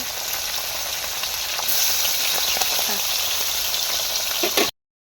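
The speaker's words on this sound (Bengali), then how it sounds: "এই মাছগুলো ভাজা করে" Fish pieces fry in hot oil with a loud, dense crackling sizzle that swells midway, broken by a few spatters, then cuts off abruptly.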